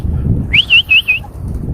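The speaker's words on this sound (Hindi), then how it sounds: "हल्की सी सीटी दी है मैंने ताकि कबूतर निकले बाहर" A soft human whistle called out to pet pigeons outdoors: a rising note followed by three short warbling tones, close and fairly loud over low background rumble.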